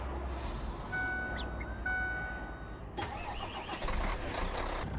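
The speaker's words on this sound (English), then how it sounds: "I'm going to leave the engine running" A farm vehicle's engine in Farming Simulator 19 cranks and catches, settling into a mid-pitched idle that steps up sharply about three seconds in, accompanied by brief high beeps and chimes, with no talking.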